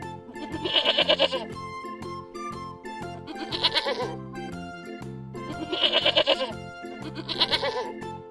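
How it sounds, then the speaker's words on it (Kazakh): Goats bleat repeatedly in bursts over a steady musical backing, the calls loud and nasal, arriving in two pairs. "Ешкінің төлі"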